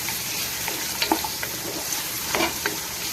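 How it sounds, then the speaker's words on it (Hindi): Chopped red onions fry steadily in a pan for a kaddu sabzi, a continuous close sizzle with a few light clinks and scrapes of stirring on top. "प्याज जो है वो फ्राई हो रहा है, कलर इनका चेंज हो चुका है"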